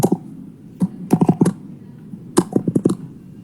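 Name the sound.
typing code on a computer keyboard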